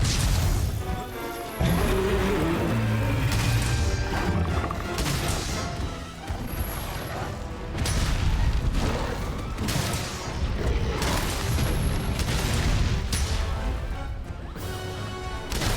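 Heavy bowgun fire in Monster Hunter World, loud booming shots and crashing impacts repeating through a dense game soundscape with brief quieter gaps, no talk.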